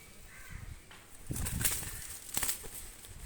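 Released Pakistani high flyer pigeons flap their wings in quick bursts, soft rustling flutters rising twice amid faint background noise.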